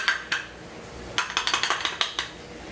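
A utensil scrapes and clinks against a pan while cornstarch is stirred into apple turnover filling, a few isolated taps followed by a quick run of rhythmic metallic knocks, close and clear with no talking.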